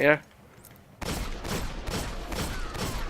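A rapid string of hand cannon shots in the Destiny video game, following a brief tone and a short lull, with about five heavy, evenly spaced reports that ring close and loud.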